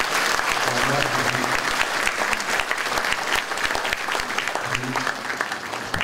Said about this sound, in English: we all should give them a big applause and appreciation